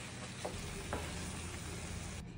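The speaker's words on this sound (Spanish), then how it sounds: "Le vamos a poner el quesillo y vamos a mezclar." Potatoes coated in sauce with quesillo cheese are stirred in a hot pan, a steady close sizzle with a few soft scraping strokes and no talking.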